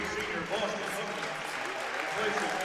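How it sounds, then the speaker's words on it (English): A gym crowd applauds and cheers steadily through a high school boys' sectional final basketball game between Hicksville and Holgate as the bench rises for a senior substitution, with broad crowd noise and voices mixed in. "Well-deserved round of applause, standing O from the bench"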